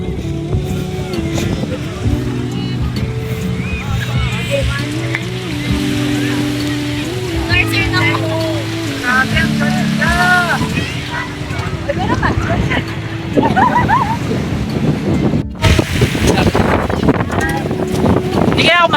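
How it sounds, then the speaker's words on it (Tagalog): A motorboat (bangka) crossing to another island off San Narciso, Zambales, its steady engine drone running loud and close throughout alongside wind and water noise, with people talking over it. "Tatawid kami ng ibang isla guys, nakasakay ng bangka."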